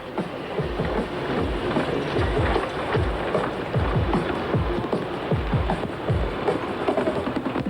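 A narrow-gauge Ffestiniog Railway train rumbles along near its Porthmadog headquarters, with a steady broadband roar and a run of regular, rhythmic wheel-on-rail clacks repeating throughout.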